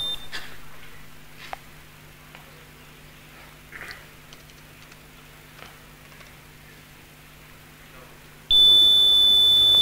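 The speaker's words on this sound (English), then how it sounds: "If I start both the buzzers together" After a quiet stretch with faint clicks and taps, two buzzers sounding together produce a loud continuous electronic buzzing tone that suddenly starts and holds steady, piercing and close.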